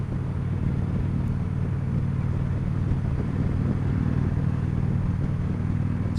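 A 2015 Victory Cross Country motorcycle cruising in sixth gear gives a constant low engine rumble mixed with wind and road roar at an even level.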